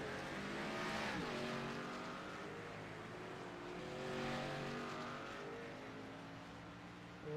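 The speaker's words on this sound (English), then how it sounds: "Locks up those front tires and slides off into the grass." A race car at Daytona International Speedway braking hard, with the engine note dropping and then revving again as it slides off, heard from a distance with a faint tire squeal.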